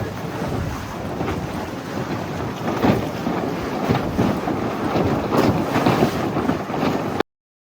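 Sailboats race on day two just outside Wootton Creek. Wind roars steadily and loud across the microphone, with water rushing and sloshing against the hull underneath; a few stronger gusts swell the noise partway through, and no one speaks.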